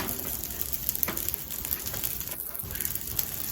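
Onions and vegetables frying in butter on a Blackstone flat-top griddle, with a steady crackling sizzle and scattered pops and scraping sounds close to the microphone, no talking.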